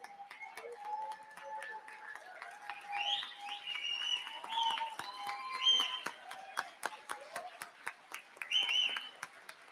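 Scattered clapping at an advertising awards event for rising stars, with sharp, rapid claps under a lively mix of voices and chatter, moderately close.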